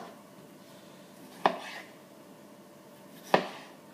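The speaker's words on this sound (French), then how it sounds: "Je découpe les tomates déjà en 4." Two separate knife chops through tomatoes on a cutting board, each a crisp thud with a short scrape after it, close by, with a quiet room in the gaps and no speech.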